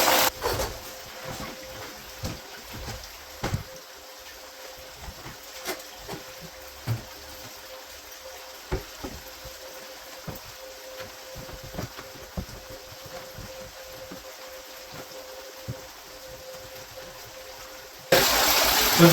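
Water runs steadily through a gold cleanup sluice box on a Lake Michigan beach, a continuous moderate rushing wash with scattered small splashes and knocks, close by and without talk.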